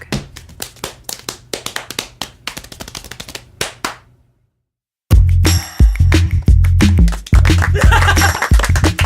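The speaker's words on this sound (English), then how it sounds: "Guys, you know what that is? Yeah. It's clapping." Hands clap out a hand-clapping game: crisp, close claps in a quick, uneven rhythm, then a brief silence, then a louder, denser burst of clapping that runs to the end.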